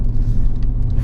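A Dodge Challenger Scat Pack with a 6.4-litre Hemi V8 and six-speed manual produces a brief, steady, deep engine rumble, loud and close.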